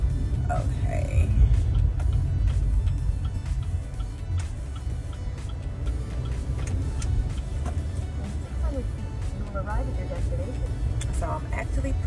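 A car drives along a narrow street lined with parked cars on both sides and then pulls up, a steady low engine and road rumble continuing throughout at a moderate level with a few faint knocks and clicks.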